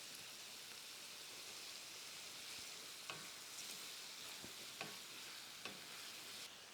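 Egg kheema masala sautéed and stirred in a pan, a soft low sizzle with a few distinct scraping clicks of the spoon, quiet and close, no talking.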